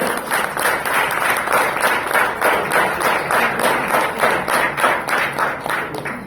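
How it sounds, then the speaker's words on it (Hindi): A crowd claps for a guest named Ram sir at a school event, rhythmic, loud clapping in near-unison beats that repeat steadily throughout, with no talking. "जोरदार तालियां राम सर के लिए"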